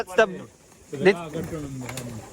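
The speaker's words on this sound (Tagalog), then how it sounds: "These are not breeding birds." Pigeons in a loft cooing in short throaty bursts, three calls spaced about a second apart, close and moderately loud.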